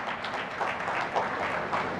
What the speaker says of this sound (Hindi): जरा जोरदार तालियां उनका अभिनंदन करते हैं